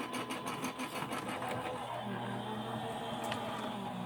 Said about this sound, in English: So now I'm going to put this through my die cut machine. I'm just running it through my Empress.